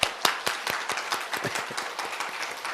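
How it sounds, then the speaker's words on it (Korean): A church congregation at a Sunday afternoon worship service claps hard together, giving a dense, loud burst of overlapping hand claps with a few sharp early strikes. It continues steadily and close by, with no speech over it. "한번 박수 우리 힘차게 5초간만 쳐볼까요?"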